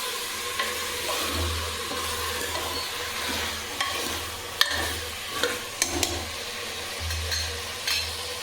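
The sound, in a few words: vegetables frying and being stirred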